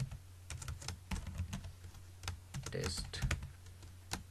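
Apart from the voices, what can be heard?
typing on a computer keyboard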